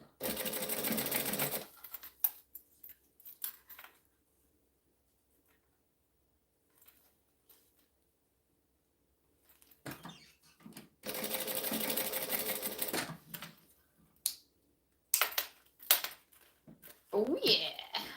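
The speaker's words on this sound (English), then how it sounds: "Now I like to chain stitch these because I like chain stitching." A sewing machine chain stitching a handbag runs in loud rapid bursts, a long stretch at the start and again midway, with quiet pauses and short handling clicks between.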